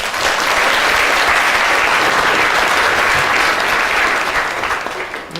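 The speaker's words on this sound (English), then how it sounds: "Round of applause for Albert Einstein." Audience at a Christmas lecture breaks into a round of applause, loud dense clapping that holds steady for several seconds and tapers slightly at the end.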